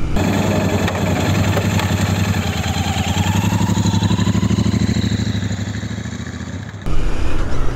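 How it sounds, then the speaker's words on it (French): A Royal Enfield motorcycle with dual exhausts, one on each side, idles nearby with a throbbing, pulsing exhaust note, dipping slightly before a sharp blip of revs near the end. "Au ralenti, le son des, des échappements, parce qu'il y en a un de chaque côté"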